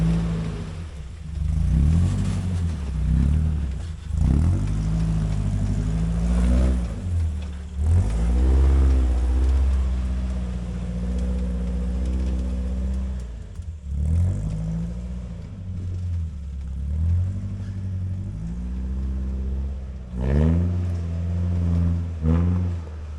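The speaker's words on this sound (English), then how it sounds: "I operate the car well beyond its designed maximum pitch angle of 30 degrees." A 4WD car climbs a steep technical off-road track on Newnes Plateau. Its engine rumbles loudly and revs up and down repeatedly in surges, with no talking.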